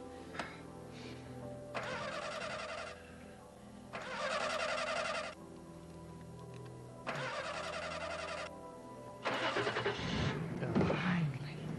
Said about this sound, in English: Why don't you try the car engine again?